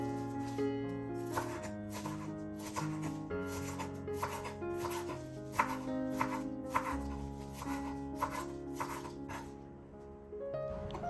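A knife chops parsley finely on a cutting board for a potato salad, a quick run of regular, crisp taps close by over soft background music, pausing near the end.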